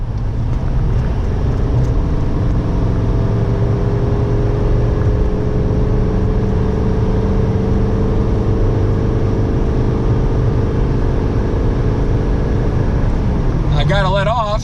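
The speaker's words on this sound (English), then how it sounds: "We'll go wide open throttle." A tuned Banks Derringer L5P Duramax pickup towing a trailer up a slight grade pulls hard at wide open throttle, a loud steady diesel drone and road roar sustained close up throughout, ending with a brief noisy burst at the very end.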